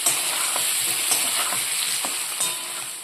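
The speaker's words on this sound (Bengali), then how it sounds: "খালি হালকা জাস্ট নেড়ে চেড়ে একটু লাল হওয়া অবধি অপেক্ষা করব।" Potato pieces for aloo dum frying in a pan, a loud steady sizzle broken by several scraping stirs of a spatula, close and without voices.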